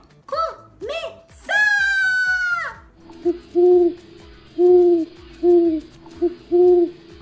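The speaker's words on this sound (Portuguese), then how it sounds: "Ouço o canto da coruja te chamando pra sentar." An owl hoots five times in a slow, steady rhythm, each call clear and close, after a child-like voice and a long drawn-out whistle-like tone at the start.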